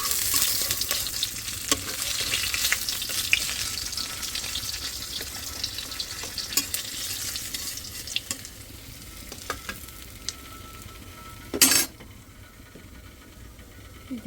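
Onions and green chillies fry in hot oil with a steady crackling sizzle and occasional stirring clicks, and a brief burst of running water near the end.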